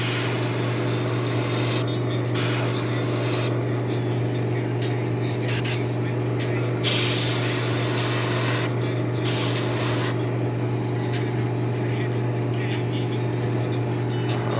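An airbrush sprays Createx transparent leaf green paint in a steady, continuous hiss with brief pauses between passes, backed by a constant low hum.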